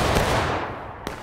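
Musket volley in the War of Rights video game, a loud, dense crack of massed gunfire that rolls away into a decaying rumble, with a single sharper report near the end.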